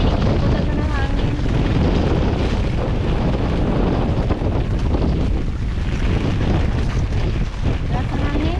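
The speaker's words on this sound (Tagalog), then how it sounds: "Lakas ng hangin. Lakas ng hangin mga kalawdi." Strong storm wind during a typhoon buffets the microphone in a constant roar, with a faint voice now and then underneath.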